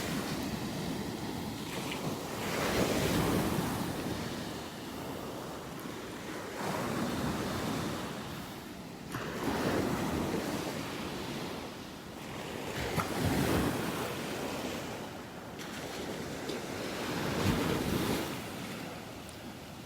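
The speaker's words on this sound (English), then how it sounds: "Love the sounds of those waves." Ocean waves roll onto a beach in North Naples, Florida, each swell building and breaking in slow repeating surges, with wind buffeting the microphone and no one talking.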